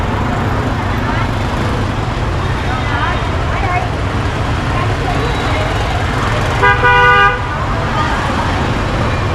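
Dense, chaotic Saigon street traffic at school let-out, with a steady roar of cars and motorbikes and a loud car horn honking briefly near the end, close by.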